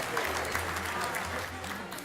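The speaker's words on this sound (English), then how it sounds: "Please, a round of applause for Mr." Dense, steady applause from a large audience at the ALCCI 2016 gala, a continuous wash of many hands clapping at even loudness throughout.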